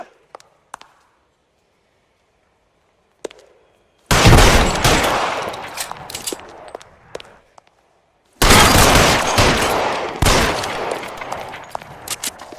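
Gunfire in the 1940s Los Angeles crime game L.A. Noire, a few isolated pistol cracks followed by two long, loud bursts of rapid automatic fire separated by a short pause.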